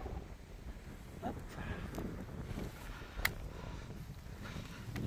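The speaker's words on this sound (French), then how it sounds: "Le vent se lève." Wind picking up along a countryside walking trail on the Compostelle route between Condom and Eauze, a steady blustery rush buffeting the microphone with a few sharper gusts, no talking.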